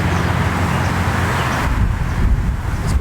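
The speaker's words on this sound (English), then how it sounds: "It's quite breezy out here right now." Steady outdoor wind rumbles and buffets a microphone in a breezy open area near a muddy berm, a continuous low roar with no voices.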